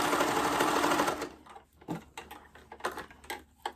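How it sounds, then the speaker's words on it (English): An overlocker serging the center back seam of a raglan top whirs in a dense, continuous burst for about a second, then gives way to scattered close clicks and small mechanical taps as the fabric is handled. "So we'll get it into the overlocker"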